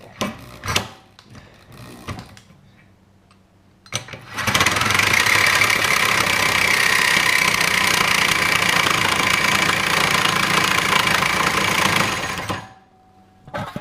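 Milwaukee Sawzall reciprocating saw fitted with an AX blade cutting 3/4 inch steel, a loud steady buzzing grind running for about eight seconds after a few brief clunks, then stopping.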